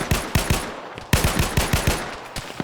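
Rapid automatic gunfire in a competitive shooter match, bursts of sharp close shots in quick rhythm, a short pause, then another longer burst, loud and without talk.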